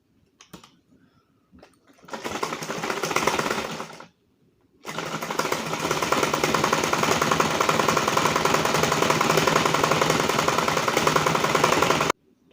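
A sewing machine stitches fabric for a dinner-collar kameez, running in two bursts of rapid mechanical clatter: a short run of about two seconds, a brief pause, then a longer steady run of roughly seven seconds before stopping.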